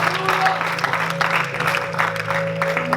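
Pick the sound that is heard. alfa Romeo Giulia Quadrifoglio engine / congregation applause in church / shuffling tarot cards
congregation applause in church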